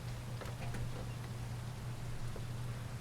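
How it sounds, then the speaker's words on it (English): Rain falls in the dinosaur survival game The Isle Evrima as a steady, even hiss with a low constant hum beneath, continuous and moderately loud with no talking. "You can see that it's raining now."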